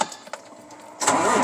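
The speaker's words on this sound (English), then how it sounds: "So let's fire our truck up." A truck's engine is started: a few faint clicks and taps, then the engine catches with a loud, broad roar near the end.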